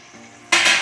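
Utensil scraping and clinking through tomato lentil curry in a pan: a quiet stretch, then a sudden loud burst of metallic stirring and sizzling in the second half, with no talk.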